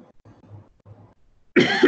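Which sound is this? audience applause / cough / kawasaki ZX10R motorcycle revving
cough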